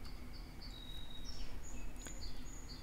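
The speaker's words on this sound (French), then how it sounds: "les oiseaux, merci, je vous entends et ça me fait du bien" Small birds chirp and sing faintly outdoors, with thin, scattered calls over a steady hiss of insects or crickets and no voices.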